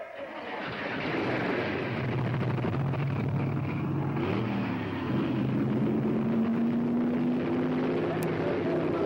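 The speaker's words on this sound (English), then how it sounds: "Gentlemen, start your engine!" NASCAR stock car engines roar to life together, a dense, loud, continuous mechanical drone that builds within the first second and holds steady to the end.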